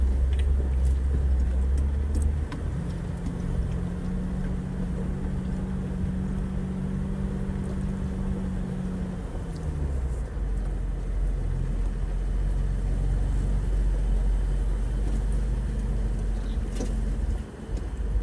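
An off-road vehicle engine drones low and steady in low gear, shifting pitch slightly as it crawls along slowly near an old mine shaft, with no one speaking.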